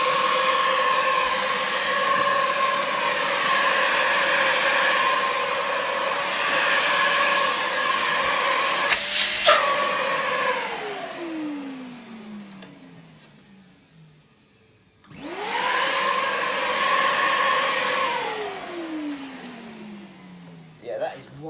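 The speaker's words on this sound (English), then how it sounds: "that is one good vacuum" A vacuum cleaner motor whines loudly and steadily, then powers down with a falling pitch, goes quiet, and starts up again before winding down once more.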